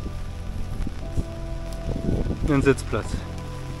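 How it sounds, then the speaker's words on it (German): Rain begins falling at a lakeside campsite during a canoe tour in Finland's Saimaa region, a dense steady patter and rustle across the whole scene, with a person speaking briefly near the end. "Jetzt hört man den Regen ankommen."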